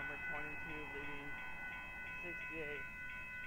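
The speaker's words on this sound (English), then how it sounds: "check out the Amtrak Texas Eagle train number 22 leaving" An Amtrak Texas Eagle passenger train, number 22, runs at Dittmar Road in Austin, Texas, with a steady, fairly distant rumble. A layered horn-like tone sounds over it, broken into bursts, and voices are faintly heard underneath.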